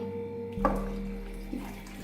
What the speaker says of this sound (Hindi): 1 जग भर के हम इसमें पानी डाल देंगे